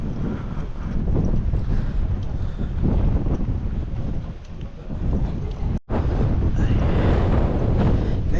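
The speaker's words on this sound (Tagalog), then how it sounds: "Grabe, lakas ng hangin." Strong wind buffets the microphone outdoors at Nagcarlan, Laguna, at a drone launch spot during a ride: a loud, continuous roaring rumble with a brief dropout near the end and one short exclamation.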